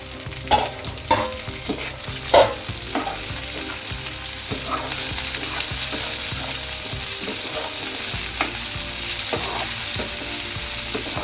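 Green chilies, split in two, frying with onions in a pan, giving a steady close sizzle broken by a few louder scraping stirs and clatters, with no talk.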